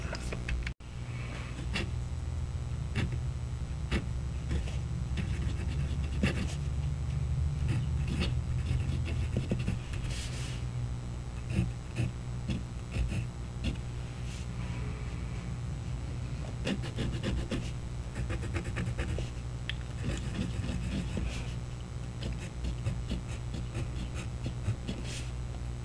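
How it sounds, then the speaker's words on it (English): A Hongdian H1 fountain pen nib scratches across paper in a long run of faint, uneven scratching strokes, close and quiet and heard alone. "So I think you can hear this nib on paper."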